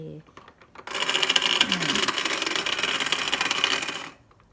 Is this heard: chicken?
no